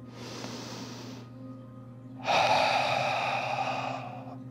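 Breathy exhale during a yin yoga breathing warm-up: soft airy breathing, then a louder, fuller out-breath that fades, close and alone with no talk.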